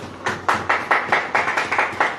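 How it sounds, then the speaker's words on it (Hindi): A church congregation claps hands together at a Hindi-language Christian sermon, a steady run of about nine crisp claps in quick rhythm, loud and close, with no talking over it. "ताली बजाएं।"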